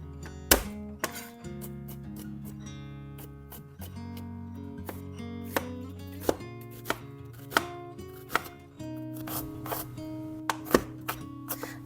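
A knife chops ginger finely on a cutting board, sharp crisp knocks repeating at an irregular, fairly quick pace, close and clear over quiet background music, with no talking.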